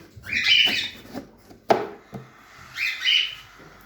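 Sultan parrot parents and chicks in a breeding setup give bright, squawky chirps in two loud bursts with a sharp squeak between them, close by with no talking.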